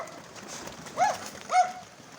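Mykolaiv pigeons cooing, two short soft coos heard close over a quiet background hiss.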